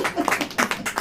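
Audience clapping at a Hindi church sermon, a short burst of applause in a hall with uneven, overlapping claps that swell and dip over about a second.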